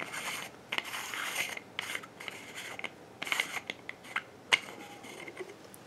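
The machined metal screw cap of a Visol Little Joe travel cigar humidor is twisted off with short gritty rasping turns and small clicks, close and quiet.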